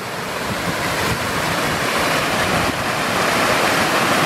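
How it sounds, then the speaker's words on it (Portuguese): Waterfall at Ponte Nova in Palmeiras de Goiás, a broad, continuous rushing roar of falling water heard close by and steady for several seconds, with a slight wind buffet on the microphone. "Aí eu vou mostrar pra vocês aqui essa queda aqui."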